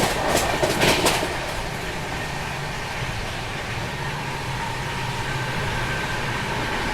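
A Howrah Jodhpur Express passenger train rolls along the rails with a loud steady rumble and rushing noise, a brief burst of clatter at the start, then an even drone, no voices.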